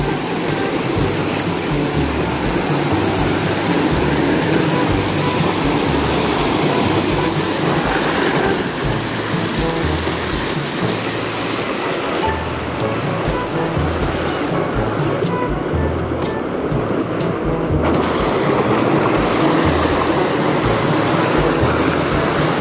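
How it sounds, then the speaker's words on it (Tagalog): Water flows and rushes continuously at Calinawan hidden lagoon in Tanay, Rizal, a loud, close, steady broadband wash with no pauses and little talk. "Naririnig ko na ang tubig."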